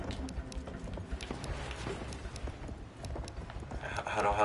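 Horse hooves galloping in Battlefield 1 gameplay, a rapid clip-clop rhythm running through dense game noise, with a player talking over it.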